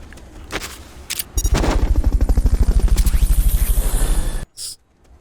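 Fulton recovery helicopter in the Metal Gear Solid: Peace Walker video game, a loud rapid rotor chop pulsing steadily for about three seconds, with short game effects before and a brief cutoff and blip after.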